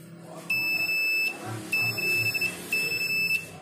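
A multimeter's continuity buzzer beeps three times, each a steady high tone about a second long with short gaps, while a rice cooker fuse is being tested; the beeps are clear and close.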